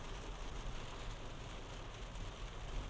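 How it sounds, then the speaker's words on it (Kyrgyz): Rain falls steadily in Chicago on a summer day, a faint, even hiss of drops with no pauses. "Бир жагынан жамгыр жаап атат."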